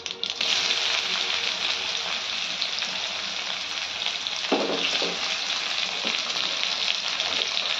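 Bitter gourd fries in hot oil with nigella seeds and a dried red chilli, a loud, steady close sizzle with a few soft stirring knocks partway through.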